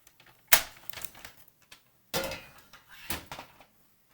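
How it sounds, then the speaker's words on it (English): A paper cutter tool slicing card stock down to size: a sharp snap of the blade followed by a couple of quick, close sliding cuts and clacks, with quiet gaps between. "I'm just using this paper cutter tool here."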